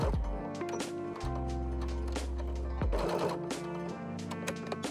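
A sewing machine backstitches a few times across a pocket opening on a maxi skirt, giving short bursts of mechanical clatter that stop and restart, close and fairly quiet.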